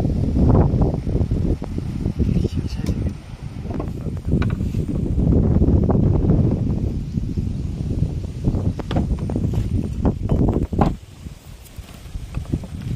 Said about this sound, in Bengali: হাওয়া হচ্ছে, জঙ্গলের ভিতরে আওয়াজ করলেও কিন্তু শোনা যাবে না।